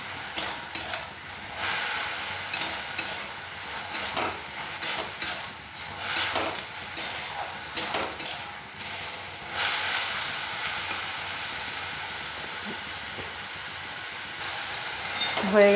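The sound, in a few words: frying mushroom and vegetables in pan until water dries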